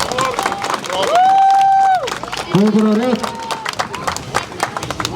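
Audience clapping at a strongman competition in Iceland, brisk scattered claps and cheers with a voice calling out over them and a sustained vocal tone mid-way.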